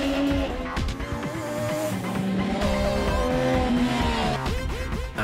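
MV Agusta motorcycles being ridden, with engines revving and changing pitch continuously, a loud, close, steady roar that rises and falls through the gears.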